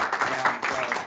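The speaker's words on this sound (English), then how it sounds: "How about a" An audience breaks into a warm round of applause at a student satellite team presentation, dense steady clapping that fills the whole short stretch.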